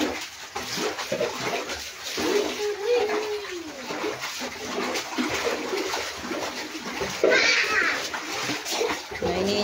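People splashing and playing in water welling up from an underground source, with continuous sloshing and splatter under children's voices and chatter, a bit distant and busy.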